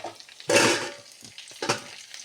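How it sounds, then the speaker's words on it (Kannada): Cooked raw mango mashed in a frying pan for a mango gojju, with two bursts of scraping, squishing stirring against a sizzling pan, one long and one short, up close with no talk. "ಬೇಯಿಸಿಬಿಟ್ಟು ಮ್ಯಾಶ್ ಮಾಡ್ಕೋಬೇಕು."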